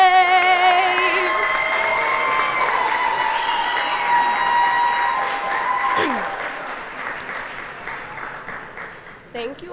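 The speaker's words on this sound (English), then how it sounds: "Thank you all so much for the applause." A crowd at a City of Jackson, Michigan State of the City address applauds and cheers loudly after a sung national anthem, sustained clapping with voices mixed in, fading toward the end.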